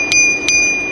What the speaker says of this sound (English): So we do get a little bell.